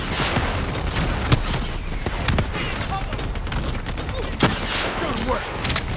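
Gunfire from the video game Call of Duty Black Ops 3, with bursts of automatic shots and sharp cracks filling the scene over steady battle noise, punctuated by a few louder distinct blasts.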